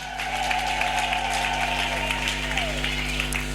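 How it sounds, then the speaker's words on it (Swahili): A congregation at a church service claps together in sustained applause, a dense, even wash of hands with a low hum and tonal background beneath, close and continuous. "Mpigie vigelegele na makofi Bwana majeshi"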